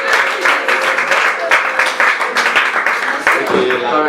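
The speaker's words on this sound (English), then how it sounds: "Please can we put our hands together for Mr." Applause from an audience at a bridal fabrics session, a room of hands clapping in an uneven patter with sharper claps standing out, fairly loud and close, with a voice briefly heard near the end.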